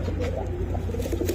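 Several pairs of Giribaz pigeons, a Bangladeshi flying breed offered for sale, give a steady close chorus of low cooing with soft wing and foot patter, no voices over it.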